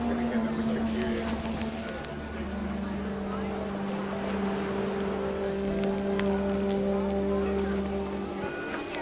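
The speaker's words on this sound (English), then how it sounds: "rain came down in buckets then" Heavy downpour in the video game What Remains of Edith Finch, a dense steady hiss of rain with droplet patter and a low engine-like rumble, continuous at moderate level throughout.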